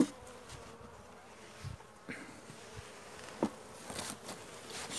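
Honeybees buzz at an opened hive during an inspection to treat a weak colony, a steady close hum with small knocks and clicks of frame handling.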